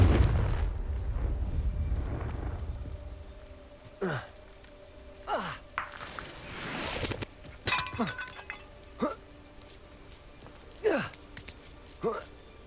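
A Confringo fire-blast spell in the Hogwarts Legacy game goes off in a low rumbling burst, followed by a string of sharp crackling blast impacts spaced about a second apart, some with falling whooshes, over a steady background hum.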